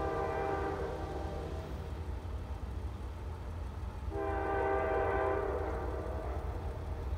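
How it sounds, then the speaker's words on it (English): CSX freight train horn on the Clinchfield line sounding two long, loud blasts, the second starting a few seconds after the first ends, over a constant rumble of rolling rail cars; no talking. "Love it when they start the horn early."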